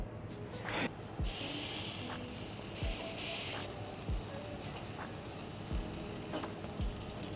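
Food sizzling on a grill while eel is cooked, a soft steady frying hiss with bursts of brighter spitting and a few light clinks and knocks.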